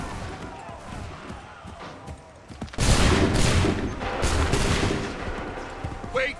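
A volley of musket gunfire erupts in Assassin's Creed 3, a sudden loud crackling barrage of overlapping shots that rolls on for several seconds after quieter battlefield noise.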